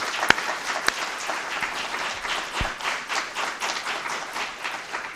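An audience at a midterm workshop briefing applauds its presenters with a modest, steady patter of clapping, a few louder close claps and knocks early on.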